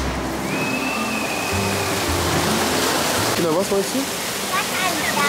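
Rushing water at a theme park water ride makes a loud, constant roar like a waterfall, with people talking over it and a voice near the end.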